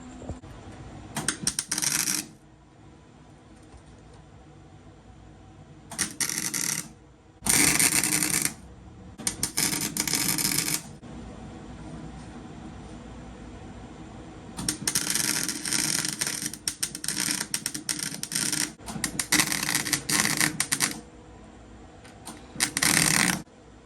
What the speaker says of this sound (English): I just finished welding the plate.